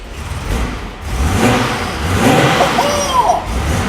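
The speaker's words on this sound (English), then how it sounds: "just to start him up and just enjoy some straight 6-cylinder goodness" A straight-six engine in a Mercedes-Benz classic rally car under restoration, starting and revving steadily, a loud, close, continuous engine note that rises and falls with throttle over a few seconds.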